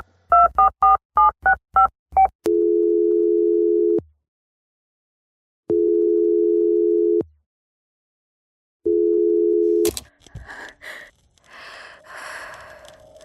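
A recorded phone call opens with a quick run of keypad dialing tones, then three long steady ringing tones separated by silence, before faint breathy noises follow.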